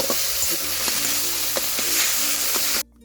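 Fish fry in hot oil in a pan, giving a loud, close, continuous crackling sizzle with a few soft utensil taps, ending abruptly.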